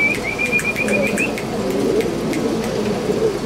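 Racing pigeons coo and call outdoors, with a thin whistling trill early on and soft wing flutters, moderately loud over a low steady background hum.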